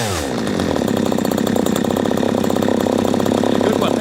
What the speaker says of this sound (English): that's an annoying thing when the chainsaw stalls when you put it down.